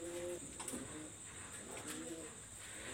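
Salara teddy baby pigeons in Khulna give soft, low cooing calls, a couple of short murmured phrases that sound faint and somewhat distant over a quiet background hiss.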